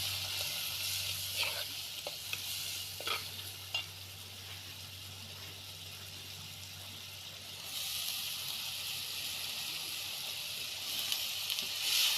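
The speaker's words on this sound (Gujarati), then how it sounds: "હવે આપણે શાકનો વઘાર કરી દઈએ" Onion and spices for a kankoda vegetable tempering sizzle in oil, a soft steady hiss with a low hum beneath, occasional crackles and stirring taps, and a brighter surge of sizzling partway through.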